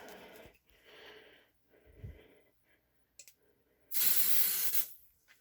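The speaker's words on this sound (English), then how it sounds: "I'm going to spray some testing spray into this." A loud, sustained hiss of aerosol testing spray into a KF Industries Model 535 gas and smoke detector, lasting about a second, preceded by quieter rustling and clicking handling sounds.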